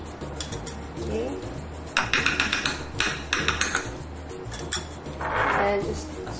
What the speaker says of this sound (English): And just sort of whisk everything together.